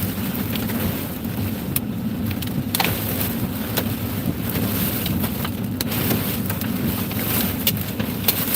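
Strong wind buffeting the microphone during a tornado storm chase, a constant loud roaring rush with gusty bursts and sharp crackles, no talk.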